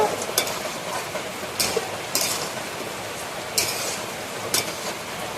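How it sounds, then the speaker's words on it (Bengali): Cooked banana flower curry with raw chickpeas being tipped out of a pan, with a soft, steady scraping and shuffling and a few sharp clinks of a spoon against the pan at uneven intervals, close by and with no talking. "মোচার ঘন্টটা পুরো রেডি, আমি এবার ঢেলে নেব।"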